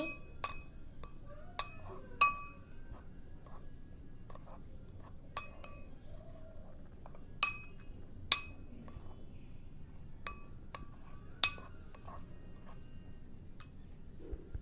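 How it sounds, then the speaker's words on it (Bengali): A spoon stirs chaat masala and garam masala together in a bowl for peanut masala, giving about a dozen sharp, isolated clinks at irregular intervals over a quiet background. "সবগুলো মশলা ভালোভাবে মিশিয়ে নেব"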